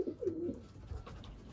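Racing pigeons coo softly in a loft, low throaty murmurs heard faintly close by with a little background noise and no talking.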